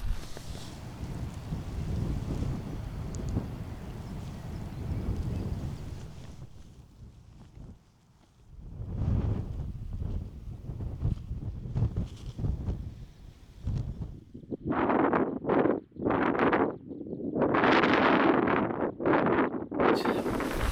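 Wind buffets a tent pitched on a slight dip, a loud rumbling roar for the first several seconds, then gusty bursts of flapping and rustling that rise and fall, with no voices.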